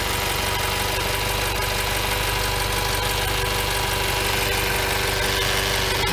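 Silver Toyota FJ Cruiser coupe engine idling as it warms up after a cold start, a loud, steady low rumble with an even mechanical pulse throughout.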